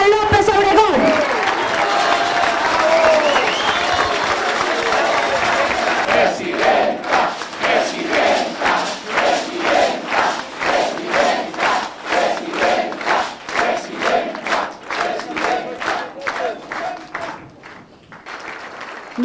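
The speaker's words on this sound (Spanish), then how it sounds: "que recibamos con un caluroso aplauso a la que va a ser la próxima presidenta de la República de Colombia" At a Colombian political rally for the Polo party in Bogotá, a large crowd cheers and applauds, first a loud wash of shouting and clapping, then rhythmic, chant-like unison clapping that slowly fades.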